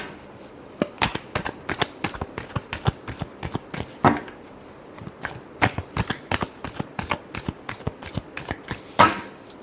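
Tarot cards shuffled by hand, a long run of quick, crisp riffling slaps in an uneven rhythm, close and clear with brief pauses between bursts.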